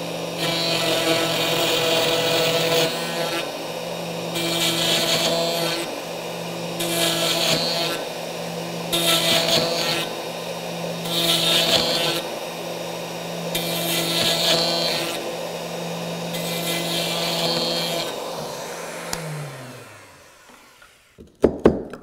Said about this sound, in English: that'll push the router bit over a half an inch to do the other part of the mortise.